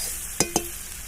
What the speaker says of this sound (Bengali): পেঁপেগুলাকে এইভাবে নেড়ে চেড়ে দেখুন লাল লাল করে ভেজে নিয়েছি